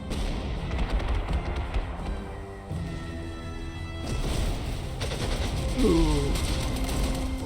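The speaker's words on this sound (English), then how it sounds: "That artillery hit that anti-air unit." Artillery fire striking an anti-air unit in the Panzer Corps 2 strategy game, heard as dense, continuous rumbling battle noise with a sharper burst partway through and a brief exclamation near the end.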